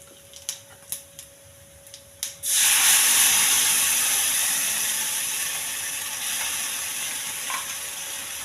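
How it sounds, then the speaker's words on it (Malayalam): Ground chutney poured into hot oil with a tempering of onion, dried red chillies and curry leaves, a few clinks of a spoon, then a sudden loud sizzle that gradually settles into a steady hiss. "ചമ്മന്തി അരച്ച് വെച്ചിരിക്കുന്നത് അതിനകത്ത് ഒഴിക്കാം."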